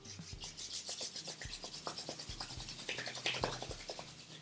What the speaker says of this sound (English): Gently rub your palm together.